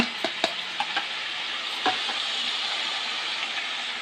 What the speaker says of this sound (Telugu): కలపాలండి ఒకసారి మొత్తం